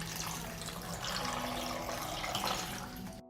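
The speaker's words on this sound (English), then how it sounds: "I add half a liter of water." Water pours steadily in a continuous rushing stream into a pot, half a liter, close up, then cuts off abruptly at the end.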